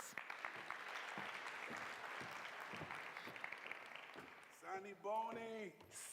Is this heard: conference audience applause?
yes